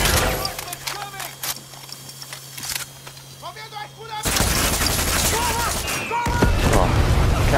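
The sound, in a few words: gunfire in the video game Far Cry 6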